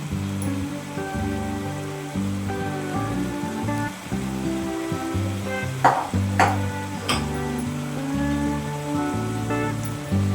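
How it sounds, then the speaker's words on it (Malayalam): Chicken curry being stirred in a pan after salt goes in, with soft scraping and sizzling under background music and a few sharper clinks of the spoon against the pan near the middle. "ഉപ്പ് ചേർത്ത് നന്നായിട്ട് ഇളക്കി കൊടുക്കാം"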